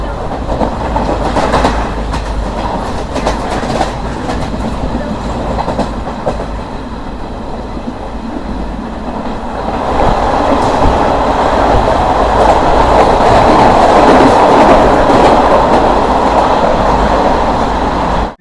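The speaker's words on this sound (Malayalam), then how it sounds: "CSMT superfast. അതിൻ്റെ പുറകിൽ തന്നെ ഉണ്ട് കുന്താപുര ട്രെയിൻ." Passenger trains on the Konkan line near a long tunnel, with a CSMT superfast and a Kundapura train, pass loud and close, a rumbling roll with rhythmic clickety-clack that swells into a heavier roar midway.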